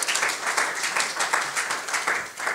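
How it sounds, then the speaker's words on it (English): Audience applause at the RVRB X 2023 opening ceremony, close, loud and sustained, with overlapping hand claps pulsing slightly unevenly across the crowd. "I'm just going to ask if we could give Melissa a round of applause."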